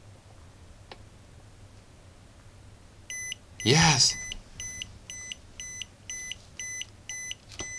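A battery low-voltage alarm gadget sounds regular, high electronic beeps repeating about twice a second, following a loud shout from a voice.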